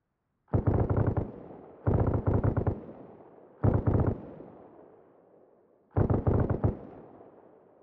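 Automatic gunfire in the video game Arma Reforger during a Fallujah infantry milsim: four loud, close bursts of rapid shots, each about a second long with a trailing echo, separated by short pauses.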